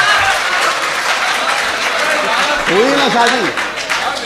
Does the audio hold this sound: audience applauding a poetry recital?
yes